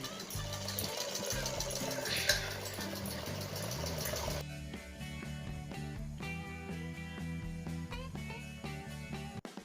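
A home electric sewing machine stitches a fabric cover with a steady, fast mechanical hum and rhythmic clatter that runs through the whole stretch, with its pitch shifting partway as the stitching continues.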